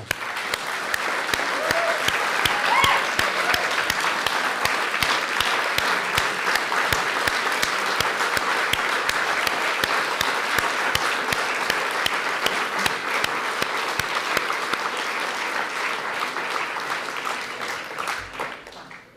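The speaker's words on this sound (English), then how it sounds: "please join me in a big round of applause for our entire panel." An audience at a talk on Indigenous identities gives a long, full round of applause for the entire panel, steady dense clapping sustained for many seconds before tapering off at the end.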